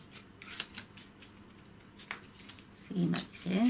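Paper scissors cut paper while making a yarn pompom, with several crisp snips and rustles at irregular intervals and a voice speaking briefly between them.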